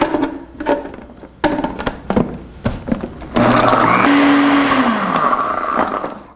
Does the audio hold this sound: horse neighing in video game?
no